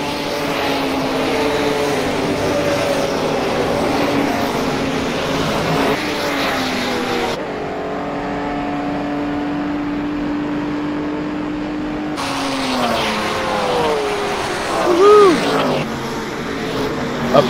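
Corvette race car engine during a 1960s GT revival race, a steady droning roar with shifting pitch as cars pass, fairly loud beneath a commentator's voice, with a brief drop in the middle.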